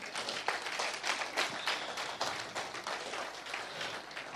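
A church congregation applauding, a quiet, uneven patter of many hands clapping with soft irregular peaks, fairly distant and continuous through the moment.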